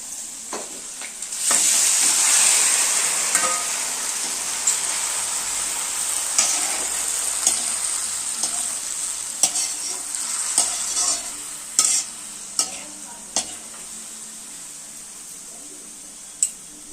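Tomatoes added to a pan of already-fried peas, sizzling steadily while a spoon stirs them with intermittent scraping clicks for a Chhattisgarhi tomato chutney, loud and close with no talking.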